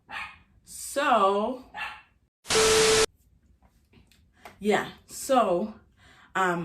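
A puppy barks a few times, short yips mixed with speech, followed by a brief loud burst of static noise.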